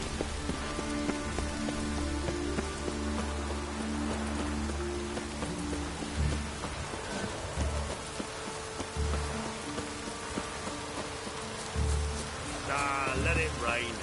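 Steady rain patters and hisses on surfaces throughout in The Witcher 3: Wild Hunt, with low rumbling tones and scattered effects underneath, and a voice briefly near the end.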